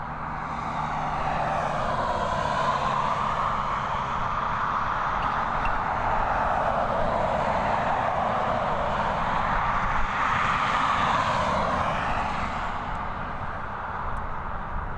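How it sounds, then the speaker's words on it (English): ATR 72-600 turboprop airliner on approach to Dublin Airport, a steady droning propeller engine roar that swells and slowly shifts pitch as it passes, sustained and unbroken with no speech. "This is an ATR 72-600 series aircraft."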